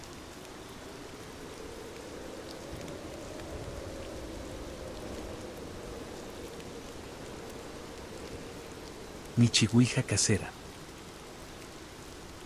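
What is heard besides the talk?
rain pounding on a building roof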